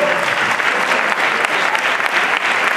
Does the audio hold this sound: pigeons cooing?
no